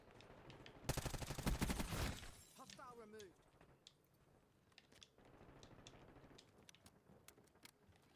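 Gunfire crackles in a zombies video game, with a dense close burst of rapid shots lasting about a second, then scattered fainter shots under someone talking.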